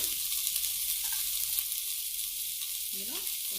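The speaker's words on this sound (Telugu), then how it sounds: "ఇందులో కొంచెం సాల్ట్ వేసి ఈ ఉల్లిపాయ ముక్కల్ని బ్రౌన్ కలర్ వచ్చే వరకు వేయించుకోవాలి." Chopped onion pieces frying with salt in a pan alongside curry leaves and green chilies, a continuous soft hiss of sizzling with faint scraping from stirring near the end.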